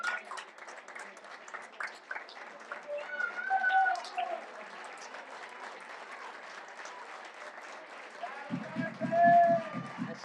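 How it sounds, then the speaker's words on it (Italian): Applause from the crowd at an amateur football match as Giuseppe Cordaro, Villarosa's captain, is substituted off, steady clapping throughout under continuous commentary, with a rhythmic lower pulse near the end. "Esce sempre tra gli applausi Giuseppe Cordaro."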